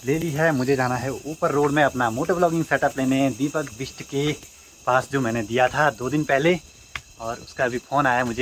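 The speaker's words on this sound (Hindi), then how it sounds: "मेरे आसपास आप जैसे आवाज़ सुन पा रहे होंगे जो जंगली कीट पतंग हैं उनकी आजकल बहुत ज़्यादा शोर करते हैं" At night in dark mountain woods, wild insects keep up a thin, continuous high chirping drone beneath someone talking steadily in the foreground.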